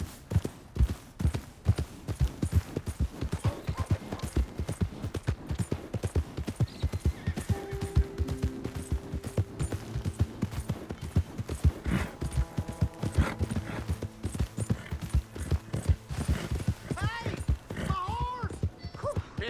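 Horse hooves clip-clopping steadily in Red Dead Redemption 2, a continuous rhythmic trot close up throughout, with a brief whinny and some speech over it.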